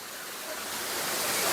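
A waterfall on the Cascades walking track in NSW, Australia, gives a steady broadband rush of falling water that swells slightly louder as it goes on, with no voices over it.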